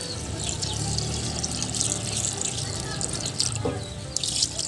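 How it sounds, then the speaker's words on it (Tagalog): Coconut milk pours into a pot of cooked taro, a steady close liquid splashing and trickling that runs the whole time with a few small clinks near the end. "Ito po ay luto na yung gabi at lagyan ko na ng gata."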